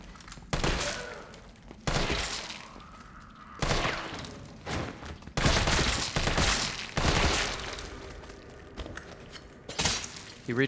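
Heavy gunshots fired at downed bodies in the horror game Resident Evil 3 Remake, about half a dozen loud booming reports spaced a second or two apart, each with a lingering tail, with faint footsteps between.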